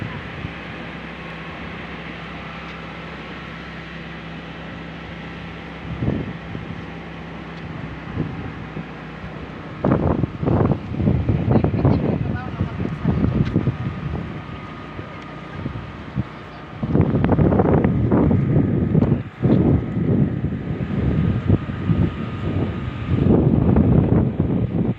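Strong gusts of wind batter the microphone at the Pililla windmill overlook in Tanay, with rough low rumbling bursts that swell loudly midway and again near the end over a steady windy background.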